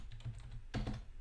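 Keys on a computer keyboard are tapped quietly in a short run of soft clicks while a folder is renamed, with a slightly firmer cluster of presses near the end.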